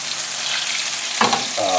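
A tuna steak sears in a hot pan with a steady, bright sizzle and crackle, with a brief louder burst of frying partway through and a faint tonal sound near the end.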